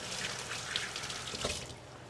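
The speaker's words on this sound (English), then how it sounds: "I am going to put my hands in cold water." Cold tap water runs in a sink for rinsing hands, a quiet, steady hiss and splash with a few faint drips, heard close and alone.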